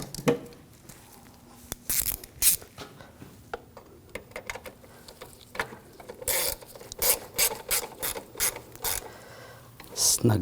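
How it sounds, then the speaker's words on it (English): Hand ratchet snugging a nut on a 2006-2009 Audi S4, close, crisp clicking in irregular short bursts with pauses and rubbing handling sounds in between. "Snug that nut down."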